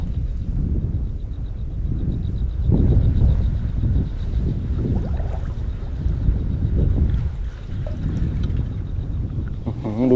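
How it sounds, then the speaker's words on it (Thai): Strong wind buffets the microphone out on a lake during a snakehead fishing trip, a loud, continuous rumbling gust that swells and eases throughout. "แต่ลมแรงไปหน่อย"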